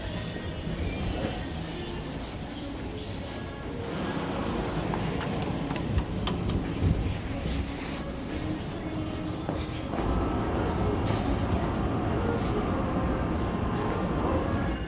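Interior of a New Jersey Transit commuter train riding in a Comet 2 car, with a steady low rumble of wheels and car body, faint and continuous, and occasional clacks and rattles.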